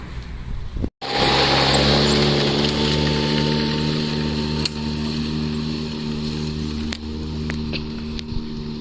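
A Toro 60V Flex-Force battery lawn mower starts up after a brief click and runs steadily close by, a loud, even whirring hum with slight dips while it cuts a St. Augustine lawn.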